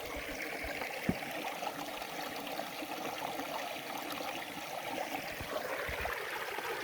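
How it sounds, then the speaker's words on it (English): Creek water at Parker Canyon flows steadily along the Arizona Trail, a soft continuous wash and trickle heard close by, with a faint tap or two and no talking. "continued on a couple miles to Parker Canyon, where there's some nice flowing water"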